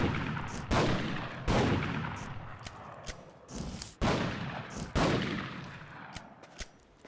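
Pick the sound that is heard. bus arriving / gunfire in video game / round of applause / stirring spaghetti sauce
gunfire in video game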